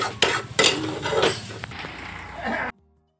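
Eggs, onion, turmeric, salt and oil being stirred together in a pan, with a utensil clattering and scraping against the metal in several sharp knocks and a steady rasp, close up, ending abruptly.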